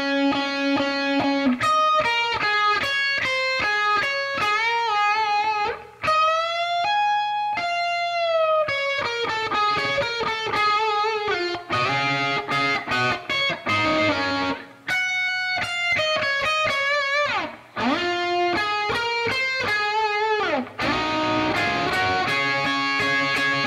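A clean electric guitar plays a guitar solo at a slow pace, a steady line of single notes with bends and slides that continues almost without pause.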